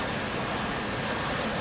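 Steady roar of a Harrier jet's engine in a DCS World flight simulation, a continuous broadband rushing drone with a faint high whine, unchanging in level.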